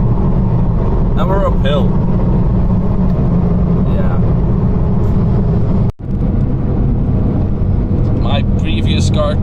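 A BMW on a road in Holland accelerates hard, its engine a loud, sustained drone with rising tone, close up inside the cabin, while people talk over it and a short bump interrupts midway.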